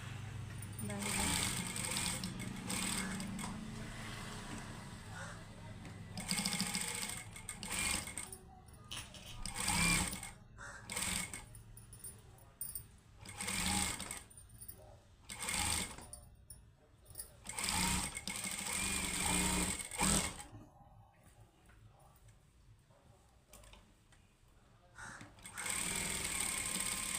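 Domestic sewing machine stitching a blouse sleeve, whirring in repeated bursts of several seconds separated by pauses and soft handling sounds, close and clear.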